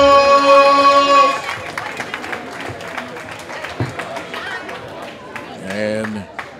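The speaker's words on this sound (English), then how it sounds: "the people should deservedly give them a good round of applause" A fight-night crowd at Hub City Fight Night 2022 applauds two amateur boxers, a broad wash of clapping and cheering under a ring announcer's amplified voice, swelling near the end.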